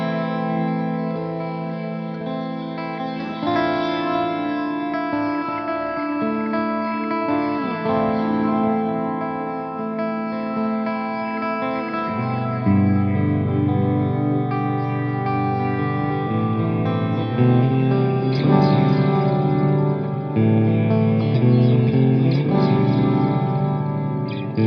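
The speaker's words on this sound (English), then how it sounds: "It becomes a lot less like a reverb pedal and a lot more like sort of a mix between delay, reverb, some modulation going on as well." Electric guitar through a Boss Tera Echo TE-2 pedal, blending delay, reverb and modulation into washy, sustained chords and notes that swell and trail into long shimmering tails at a moderate, steady level.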